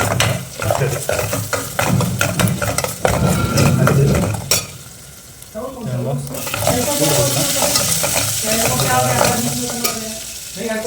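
Bitter gourd gravy with green chillies is stirred as it fries in a pan, giving close scraping and clinking against the pan over a steady sizzle, with brief breaks in the stirring.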